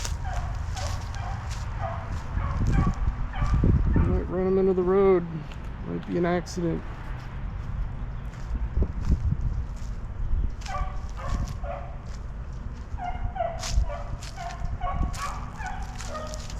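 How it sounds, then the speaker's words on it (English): Several coonhounds on a chase bark and bay in bursts at a moderate distance, with some drawn-out howls, while someone talks over them outdoors. "And this sounds like a coon hound."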